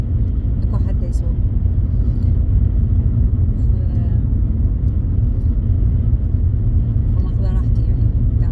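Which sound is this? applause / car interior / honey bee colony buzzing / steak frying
car interior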